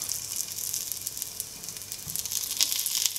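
Steady oil sizzle as chicken-stuffed wheat flour dumplings shallow fry in a pan, a continuous crackling hiss with small popping bursts, close and even throughout with no talking.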